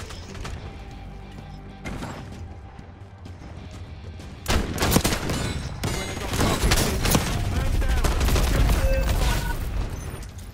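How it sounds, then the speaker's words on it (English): Shotgun blasts and other gunfire in a Call of Duty Black Ops 6 multiplayer match, loud bursts growing denser and heavier over the second half amid constant battle noise. "They can pull their shotgun, I'm pulling out my shotgun"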